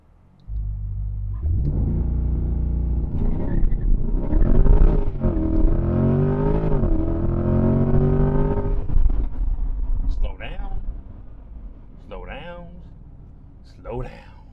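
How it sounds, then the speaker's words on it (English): A Corvette C8 Z51 Stingray launches hard under launch control, its engine rising from a rumbling hold into a loud, climbing roar that sweeps up through the gears before easing off, with excited talk over and after it. "keep mashing your foot on the gas, and the vehicle will just take off"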